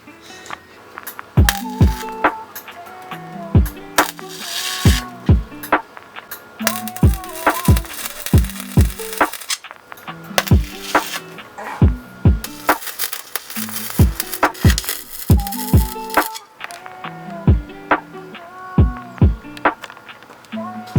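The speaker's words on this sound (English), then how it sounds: "we're going to plug it in and we're going to start trying to weld it onto this bomb" Welding a rust repair panel onto an NB Mazda Miata: short bursts of crackling weld noise alternate with sharp clicks and knocks in an irregular, close, stop-start rhythm.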